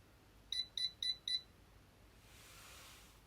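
Four quick high-pitched beeps in an even rhythm from a Diva Pro automatic hair curler, followed by a faint hiss in a quiet room.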